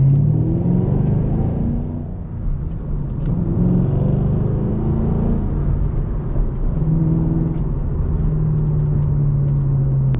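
A 2014 SVT Shelby GT500 driven on the road, its engine a steady deep rumble from inside the cabin that rises and falls gently with throttle, loud and continuous with no talking.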